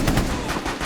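Gunfire and explosive blasts in the tactical shooter Rainbow Six Siege, closed beta, come as dense, loud, overlapping bursts of rapid reports with a booming low end, one after another.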